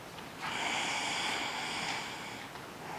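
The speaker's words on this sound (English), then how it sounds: "Remembering to take your deep belly breaths." A single deep belly breath during a yoga stretch, a soft, close, airy exhale that swells and fades over about two seconds against a quiet room.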